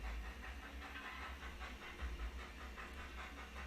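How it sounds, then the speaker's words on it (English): A live steam model locomotive hisses steadily and loudly throughout, with a faint rhythmic chuffing pulse running under the continuous steam noise and no voices. "Let me know if the steam engine sounds too loud and I'll turn it down."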